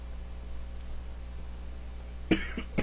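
Two brief coughs from a person with a sore throat near the end, following a quiet stretch of near-silence, close and moderately loud.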